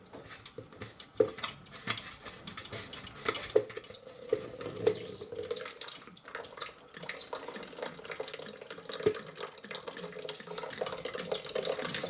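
Water draining from a valve on the supply and return loop of a hot water heating system, a steady splashing, running flow heard close up with light metallic clatter and no talk.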